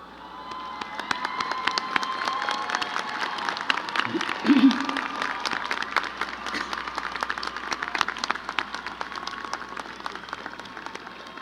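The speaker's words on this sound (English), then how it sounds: "please rise and receive our applause" An audience applauds graduating business and economics students with academic honors at a university commencement ceremony, steady clapping sustained throughout with some crowd noise.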